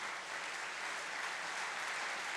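Dense, even applause from a conference audience at the GESF 2017 welcome and opening address, a sustained roar of many hands clapping at once with no voices over it.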